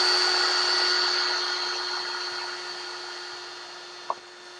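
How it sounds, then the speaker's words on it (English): A power drill bores a pilot hole during a showerhead install, its steady motor whine humming for several seconds and slowly fading, followed by a single short clunk near the end. "when you're ready, start the drill and drill the hole."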